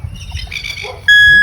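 Ground-nesting birds give a few short squawks and chirps nearby, with low rumble underneath and a sudden loud steady tone cutting in at the end.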